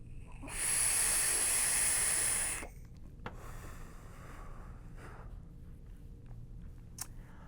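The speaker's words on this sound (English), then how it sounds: "Let's go ahead and vape on it and see what it's like." A Smok X Priv mod with a Spew tank at 70 watts, airflow half open, gives a loud, steady hiss of vapour for about two seconds, then quiet room tone with a few faint clicks.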